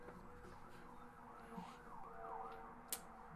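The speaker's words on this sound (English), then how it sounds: "you just hear a siren in the background" A faint emergency-vehicle siren wails in the distance, its rising and falling tone sitting low behind the background of a film soundtrack, with a brief click near the end.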